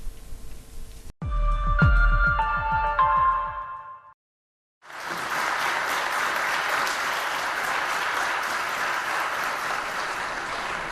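Applause fills a parliament chamber as members celebrate ratifying the name agreement with Greece, honoring the prime minister and foreign minister; a dense, steady wall of clapping runs loud and unbroken for several seconds after a brief pause.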